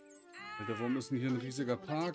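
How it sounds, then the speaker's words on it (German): Cat meowing in Baldur's Gate 3, giving a few drawn-out, wavering mews in quick succession, heard over and between someone speaking German. "Hey, das ist eine Katze."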